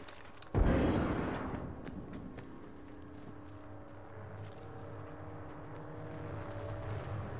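A frag grenade blows up in Apex Legends with a sudden loud blast about half a second in, then a rumbling tail that fades into sustained low game ambience.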